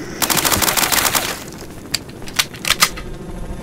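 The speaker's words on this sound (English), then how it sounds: "This gun makes short work of them." A gun fires in the game S.T.A.L.K.E.R.: Shadow of Chernobyl, opening with a rapid automatic burst of close, crackling shots, then a few separate single shots spaced apart.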